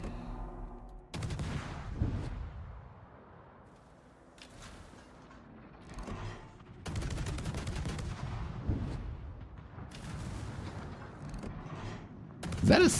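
Naval guns firing in World of Warships, with enemy ships shooting at the player: rolling bursts of heavy cannon fire and booming salvos arriving in several waves, loud and close, with a sharp blast at the very end.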